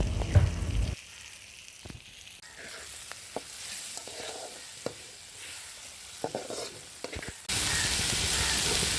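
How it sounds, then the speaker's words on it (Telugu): Dried prawns fry with brinjal in a pan. A loud hiss opens and closes the stretch, and in between a softer simmering sizzle carries scattered clicks and scrapes of stirring, with no talk. "ఈ ఎండు రొయ్యలన్నీ వేసిన తర్వాత కొద్దిసేపు ఇలా ఫ్రై చేసుకొని అలా ఒక 2 minutes వదిలేసినామంటే"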